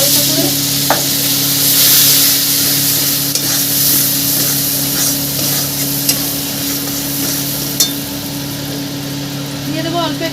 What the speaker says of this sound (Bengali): নিয়ে আমি দিয়ে দেবো তেলের উপর ছোলাটা একটু ভেজে নেবো হালকা করে।